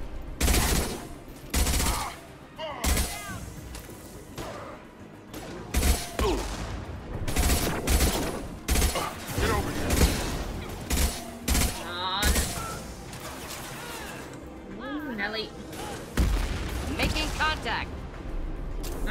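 Combat in Mass Effect 2 brings bursts of rapid gunfire and repeated loud shots throughout, close and dense, while someone talks over the fighting.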